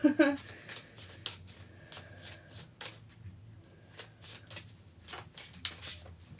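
Love cards for a tarot reading are shuffled by hand in quick riffling bursts, close and crisp, repeating in short flurries through the whole stretch.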